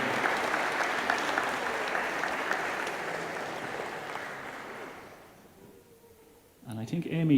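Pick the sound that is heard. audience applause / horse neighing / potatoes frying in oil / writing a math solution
audience applause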